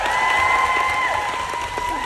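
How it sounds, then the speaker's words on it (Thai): Audience applause at an exclusive film screening and cast interview event, a steady wash of clapping filling the room throughout, with a sustained tonal hum running underneath. "ขอเสียงปรบมือเช่นเดียวกันครับ"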